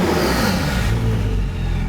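A Porsche 911 GT2 making 800 hp idles and revs gently, a steady, smooth engine drone heard from inside the car.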